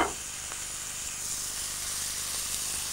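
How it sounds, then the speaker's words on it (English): Slices sizzle in a frying pan, a steady, close hiss that holds without a break. "you fry them just for 1 minute on one side and you flip them over and fry them for another minute on the other side"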